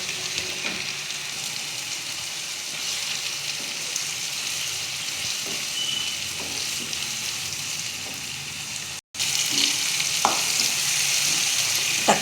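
Chopped tomatoes sautéing in a pan with ginger, garlic and green chili paste, a steady loud sizzle and fry throughout, with a brief dropout near the end before the sizzling resumes along with occasional stirring scrapes.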